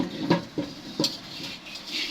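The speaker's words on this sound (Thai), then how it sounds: "เอามาคั่วลงกระทะค่ะ" Sliced jujube leaves are dry-roasted in a pan, giving a few light clinks and scrapes as they are stirred against the metal over a soft background rustle.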